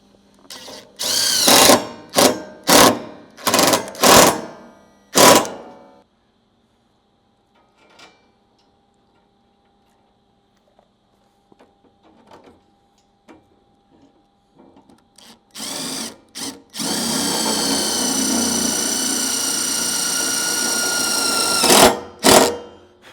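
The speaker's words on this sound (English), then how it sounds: "put your screw in, and drill it into place" Power drill driving screws into a Jeep Wrangler tailgate MOLLE panel, with several short whirring bursts at the start, a quiet stretch of faint clicks and handling, then a longer sustained loud drilling run.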